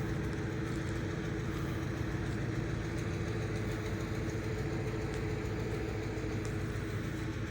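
A refuse truck's heavy diesel engine idles nearby at a highway department yard, a steady low rumble with constant vibration and no pauses.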